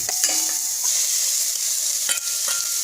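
Ginger garlic paste sautéing in a pan, a steady bright sizzle with a few scraping stirs of a spatula, close and alone without voices.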